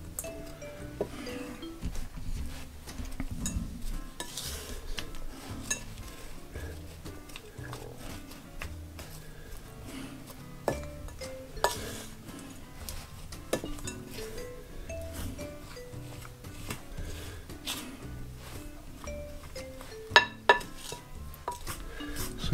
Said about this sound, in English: I'm going to just give this a stirring in so that the cherries and that get coated with a bit of flour so they don't all sink